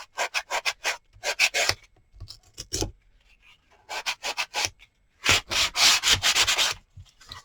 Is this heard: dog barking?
no